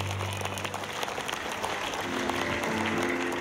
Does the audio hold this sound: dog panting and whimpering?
no